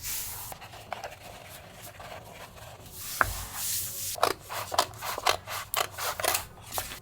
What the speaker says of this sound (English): Again, I'm using the brayer tool.